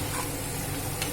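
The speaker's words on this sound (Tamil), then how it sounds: "மிக்ஸ் பண்ணிக்கலாம்." Chicken biryani mixture is stirred in a clay pot: a brief, soft scraping and sizzling under a low background hum, with no talking.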